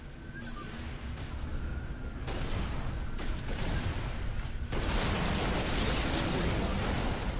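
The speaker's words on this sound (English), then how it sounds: "Light machine gun, baby." Light machine gun in Halo Reach firing in a sustained, dense burst that grows louder and harsher partway through, with continuous gunfire noise filling the whole stretch and no talk.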